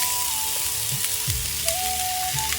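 Chopped onion sizzling in a pan without added oil for an Andhra-style stuffed brinjal curry, a steady close hiss with a few faint scraping touches.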